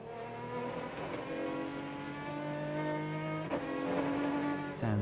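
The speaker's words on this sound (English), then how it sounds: "We're back on board inside the number 80 Ferrari." Onboard engine of the number 80 Ferrari race car in the 2003 American Le Mans Series at Road Atlanta, a loud, steady engine note that rises and shifts pitch through gear changes, heard up close and continuously.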